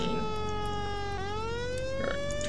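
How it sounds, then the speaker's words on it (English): Fire engine siren in the Fire Engine Simulator video game wails steadily and loud, its pitch dipping then rising again in a continuous electronic tone with no one talking. "alright, turn the siren off."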